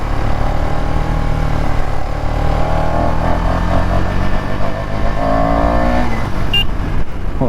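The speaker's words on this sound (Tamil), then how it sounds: "ஒரு ரேவ் பண்ணதுக்கு எப்படி பறக்குது வண்டி." A motorcycle engine revs hard and accelerates on a highway, loud and close, its pitch climbing through gear changes in a steady, continuous roar with a brief high whine near the end.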